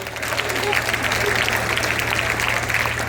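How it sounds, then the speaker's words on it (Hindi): Loud applause in a coaching centre hall for newly selected students: a dense, continuous wash of clapping from a large group, close and steady, with voices mixed in underneath. "एक बार जोरदार ताली बजाओ इन सब के लिए।"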